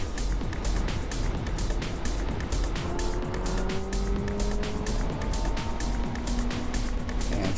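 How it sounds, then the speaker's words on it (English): Riding a motorcycle on an interstate, a constant loud roar of wind buffeting and road and engine drone that holds steady throughout, with no talking. "heading back home with the bike, and we're gonna have to get on the interstate and do a little bit of riding."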